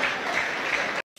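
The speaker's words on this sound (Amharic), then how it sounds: "ጭብጨባው ይቀጥላው ነው።" A crowd at a joyful gathering claps in a dense, continuous burst of applause that cuts off abruptly, followed by a short quieter patter.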